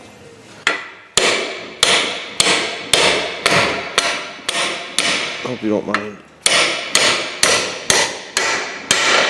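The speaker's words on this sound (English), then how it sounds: "I'm gonna drive the pin home" Hammer blows driving a steel pin into an Emmert pattern makers vise, about fifteen sharp metallic strikes at a steady pace with a brief pause midway, close and loud, and a short spoken remark partway through.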